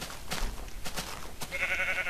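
Sheep bleating in Minecraft: a few short bleats with thumps and clatter, then a sustained higher tone near the end.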